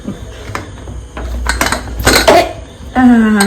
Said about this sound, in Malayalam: നിങ്ങൾ കുക്കർ തുറക്കുമ്പോ ഫുൾ ആവി പോയതിനു ശേഷം മാത്രമേ കുക്കർ തുറക്കാവുള്ളൂ